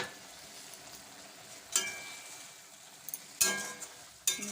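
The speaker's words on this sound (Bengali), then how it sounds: "প্রথমে এই সরিষা বাটাতে একটু জল দিয়ে আমি কড়ার উপর দিয়ে দিচ্ছি।" Black mustard paste thinned with water sizzling quietly in a wok, a soft steady crackle broken by a few sharp clinks of a utensil against the pan.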